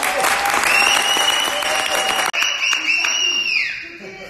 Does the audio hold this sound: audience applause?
yes